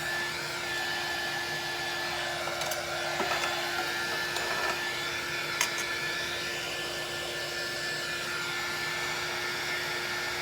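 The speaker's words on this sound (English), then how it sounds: "Just be careful if you use a heat gun doing this on this metal, because it's going to get warm." A heat gun blows steadily while drying paint on air dry clay over metal, a continuous even whooshing roar holding the same level throughout with no voices.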